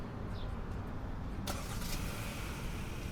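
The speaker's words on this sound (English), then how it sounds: "we're gonna lock it, do the remote start, which is this button here, press and hold" A 2025 Hyundai Tucson Limited AWD engine turns over via remote start about halfway through, then idles steadily with a low rumble; no talking.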